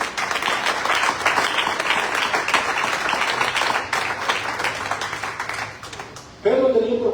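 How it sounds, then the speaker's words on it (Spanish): Church congregation applauding together during a Spanish-language service, a loud, dense wash of clapping that lasts several seconds before fading out and giving way to voices. "Denle un aplauso a nuestro Dios."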